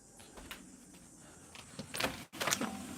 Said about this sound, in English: It's opening the window.